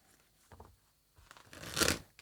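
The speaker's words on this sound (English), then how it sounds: "One more shuffle." Tarot cards being shuffled by hand, a few short riffling bursts building to one louder, longer crisp shuffle near the end, close and alone.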